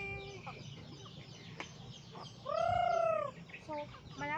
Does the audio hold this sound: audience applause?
no